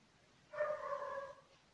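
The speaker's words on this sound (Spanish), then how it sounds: "ese perro no se va a callar. Está como que ladrando" A single dog bark or yelp rings out at a moderate distance, brief and tonal, against an otherwise quiet indoor background.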